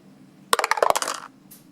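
Dice being rerolled in a tabletop game clatter in a quick run of sharp clicks and taps for under a second, then settle into quiet.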